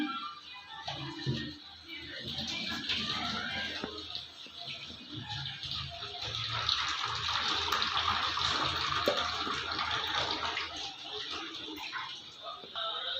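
Cooked pasta is strained, its water pouring and draining through a strainer in a continuous rushing splash with some clatter, fairly close and moderately loud.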